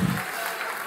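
Congregation applause at a Pentecostal church service, a brief burst of dense clapping from a crowd of worshippers, fairly loud and steady, with no speech over it.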